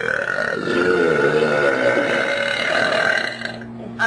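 A girl lets out one long, loud, deep burp that rumbles on for several seconds before cutting off.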